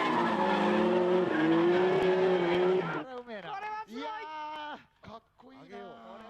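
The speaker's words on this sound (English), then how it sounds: "it's a simultaneous drift with both drivers showing some nice speed" Drift cars at a 2011 D1SL drift competition round at Ebisu scream through a simultaneous run, a loud sustained engine wail giving way to sharp squealing tire chirps and sweeping pitch bends, with an announcer talking over it.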